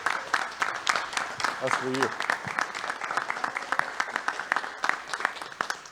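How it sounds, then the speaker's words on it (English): Audience at a city commission meeting giving a standing ovation, dense sustained applause and clapping filling the room, with a few words spoken over it. "This crowd doesn't give many standing ovations either, just for the record."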